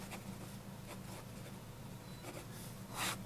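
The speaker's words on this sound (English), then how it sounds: "I'm going to keep using it here and make sure that it continues to write" Mabie Todd Swan Cadet fountain pen nib scratching on paper, faint intermittent strokes close by with a slightly firmer scrape at the end.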